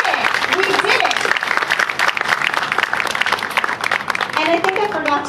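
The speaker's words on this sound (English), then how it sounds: "So how about a round of applause for everyone?" Applause from parents and families at an elementary school kindergarten celebration, a steady crowd of clapping hands with some voices mixed in, moderately loud and continuous before fading slightly.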